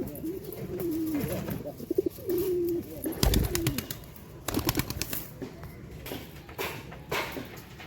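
Domestic deshi pigeons kept for sale coo nearby in low, rolling, repeated calls, broken by a few sharp knocks and brief rustling.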